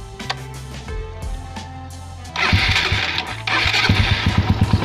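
A Suzuki Raider 150 motorcycle engine, just fitted with a new starter switch, cranks and catches, then idles with a rough, throbbing putter close by, revving in pulses toward the end.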